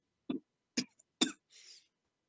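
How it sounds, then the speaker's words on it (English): Three short, sharp coughs about half a second apart, close to the mic, followed by a brief breathy throat-clearing rasp. "You need to cough more, my friend."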